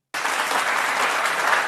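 Crowd applause from a played political video clip, starting abruptly out of silence and continuing as dense, even clapping at full loudness.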